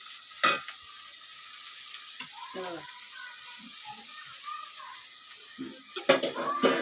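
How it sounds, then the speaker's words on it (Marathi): Shepu (dill) greens stirred into onions already browned in a pan, giving a soft, low sizzle with scattered spoon scrapes and clinks, under intermittent talking. "हे भाजलंय कांदा वगैरे चांगला ब्राऊन झालाय तर मी यात भाजी टाकते"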